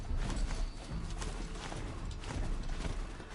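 Hooves of a horse mount in Horizon Zero Dawn clatter in a steady clip-clop over a ruined old highway, with game ambience filling in around the continuous, moderately loud footfalls.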